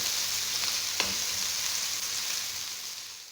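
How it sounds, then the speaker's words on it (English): Chopped onion sizzles in a hot pan while being stir-fried for mixed vegetables, a steady close crackle with one brief clatter of stirring near the start and no talking. "I'm going to add the onion. So I will fry until it turns a little golden brown"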